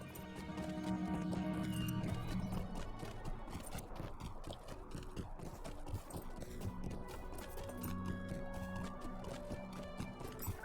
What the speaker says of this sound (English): we're just going to get on our horse. And ride there.